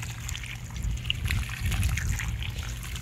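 Water runs from a hose or tap into a container of aquarium sand at a gentle, steady flow, with a soft trickle and gurgle heard close by and no talking.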